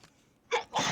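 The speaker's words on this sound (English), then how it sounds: "And I'm gonna sneeze." A single sneeze from a woman, a short breathy intake followed by a loud, bright burst of sneezing, close and alone with no talk over it.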